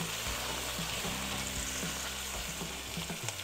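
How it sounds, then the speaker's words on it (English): Artichoke hearts and mushrooms sizzle steadily in a hot pan as they are stirred, a continuous close frying crackle with soft scraping movements and no talking. "let's add our vegetables, our artichoke hearts, and our mushrooms. We'll stir those around a little bit."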